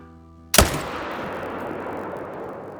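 A single rifle shot in the hunting game Call of the Wild, fired at a tripod target: one loud, sharp crack after a quiet moment, followed by a long echoing tail.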